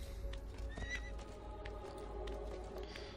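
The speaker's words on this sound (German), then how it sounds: "Ist sogar ein Pferd bereit." A horse in the video game Assassin's Creed 2 gives a short, clear whinny, with faint hoof clip-clops and a steady game ambience underneath, no talking.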